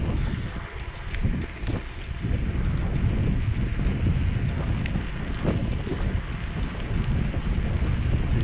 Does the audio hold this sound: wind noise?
yes